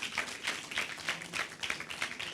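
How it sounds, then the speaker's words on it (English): Audience applause at a conference working group session: a soft, steady patter of many hands clapping together, fairly quiet and sustained throughout with no voices on top. "Let's just applaud this."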